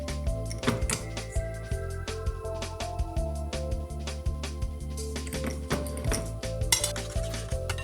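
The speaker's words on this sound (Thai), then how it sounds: "คนทุกอย่างให้เข้ากันนะคะ" Utensils clink and scrape steadily against a bowl while fish sauce and seasoning are stirred until dissolved for a salmon hor mok, a busy, close, continuous rattle with no talking.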